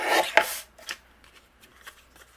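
A cardmaking paper panel is trimmed down to a 3-inch width: a few crisp cutting and slicing strokes up close, strongest in the first half second, then fading into quieter scattered paper rustles and light taps.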